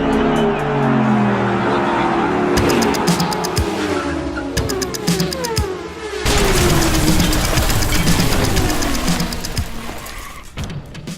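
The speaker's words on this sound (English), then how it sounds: "today we're driving the Ferrari 458 Spider" Ferrari 458 Spider engine revving loudly and continuously, with rising and falling tones and rapid crackling pops, heard close and sustained throughout.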